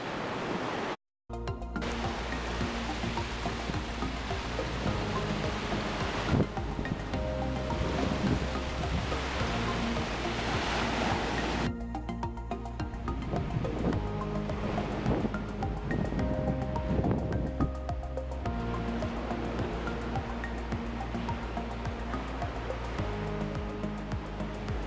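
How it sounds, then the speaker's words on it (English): A small outdoor waterfall on a coastal walk near Tintagel Castle runs as a steady, broad rushing hiss of water, continuous and fairly close, with some wind buffeting the microphone throughout. "There's a little waterfall"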